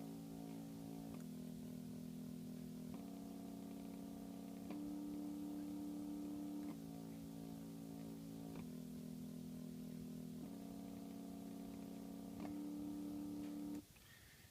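A 1-5-6-4 chord progression played on the Pentaphone, soft sustained tonal chords changing every couple of seconds in a steady cycle, faint and alone until it stops near the end.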